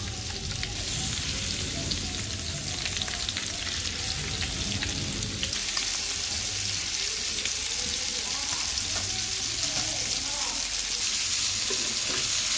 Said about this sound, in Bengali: এখন তেল গরম দিছি, মাছগুলো দিয়ে দিব। মাছগুলো ভালো করে ভাজবো।